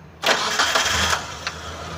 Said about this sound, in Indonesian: Kita nyalakan dulu, kita cek suaranya apakah ada yang janggal atau tidak.